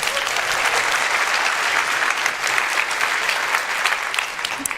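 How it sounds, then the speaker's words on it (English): A large keynote audience at the GreenBiz 24 conference bursts into sustained applause, a dense, even wash of clapping for the whole stretch. "Let's have a round of applause."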